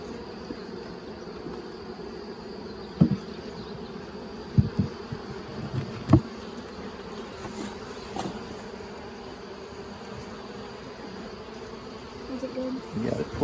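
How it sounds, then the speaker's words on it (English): Honeybees buzzing around an opened nuc hive during an inspection, a continuous close hum with occasional knocks and handling thumps, under sparse quiet talk. "we want to be careful not to smash any bees"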